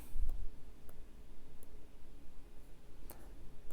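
Typing on the keyboard of a reMarkable 2 tablet: a few soft, sparse key taps spaced unevenly over a faint background hiss.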